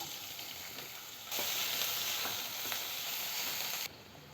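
Chopped onion sizzling in hot oil, a steady crackling fry that jumps louder partway through and then drops back, with faint stirring.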